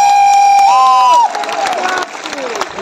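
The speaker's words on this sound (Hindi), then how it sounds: "जोर से एक बार ताली बजाओ सभी लोग।" An election rally crowd claps and cheers over a loudspeaker voice and a sustained feedback-like tone, the applause loud and dense, then thinning slightly toward the end.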